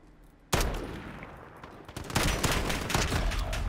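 Gunfire in Call of Duty Modern Warfare, bursts of rapid automatic shots starting abruptly and continuing in dense volleys, loud and close.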